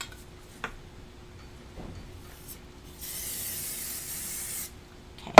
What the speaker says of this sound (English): And then I'm going to give these a spray